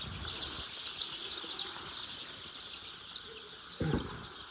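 Gavran native chicks on a poultry farm keep up a steady, fairly faint chorus of high chirps, with a brief thump near the end.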